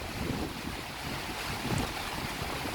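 Strong wind blows at a beach, buffeting the microphone with a loud, continuous roar, surf likely mixed in beneath it.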